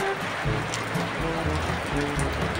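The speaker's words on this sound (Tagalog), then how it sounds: "umuulan na dito." Steady rain falls on an outdoor surface, a dense even hiss with scattered drip and splash detail running throughout without a break.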